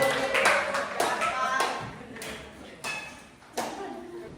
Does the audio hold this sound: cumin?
no